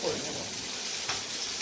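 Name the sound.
fish lightly frying in oil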